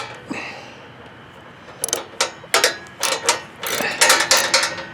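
A ratchet on a socket extension turns a bolt on a John Deere GX75 mower's Kawasaki 9HP engine, giving several quick bursts of sharp, close clicking after a quiet start.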